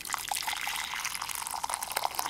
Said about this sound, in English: this is a jasmine green tea, pour in water, not so boiling.